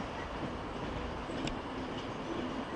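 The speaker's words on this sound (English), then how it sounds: "Here comes another Pendolino." A Pendolino train pulls into Manchester Piccadilly with a steady low rumble of wheels on rail, a faint squeal rising briefly in the middle, heard alone at a moderate distance.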